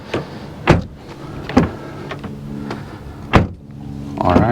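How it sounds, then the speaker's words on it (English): Hyundai Ioniq 6 car door sounds: a series of sharp mechanical clunks and latch clicks, four distinct knocks spaced about a second apart, ending in a brief motor whir, close and clear without speech. "Now let's quickly look at the door sound check."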